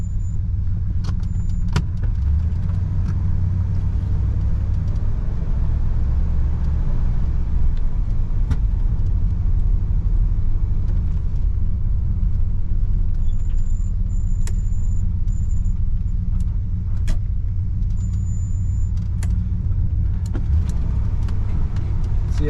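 A 1971 Cadillac Deville cruises along a road with a steady low engine hum and road rumble, even and moderate throughout, with a few faint clicks and no talking.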